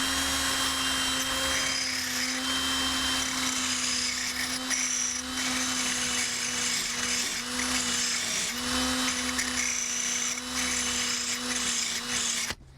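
A cheap ten-dollar drill sharpener, run on a power drill, grinds a drill bit with a loud, steady high whine and rough grinding hiss. It holds nearly constant for about twelve seconds, with small dips in pitch, then cuts off.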